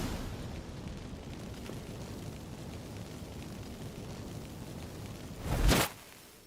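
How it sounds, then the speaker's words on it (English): A burst of magic fireworks from activated incense in The Witcher 3 erupts as one loud, short whooshing blast near the end, rising above a steady low rumble of game ambience. "Get ready for some magic fireworks."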